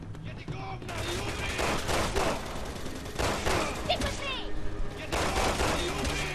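Resident Evil 6 gameplay gunfire: loud bursts of rapid shots come in several clusters with gaps between them, set against game noise and someone talking excitedly.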